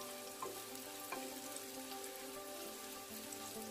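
Bitter gourd fries in oil in a non-stick pan, a steady soft hiss with faint crackles, like light rain, close and quiet, no talking.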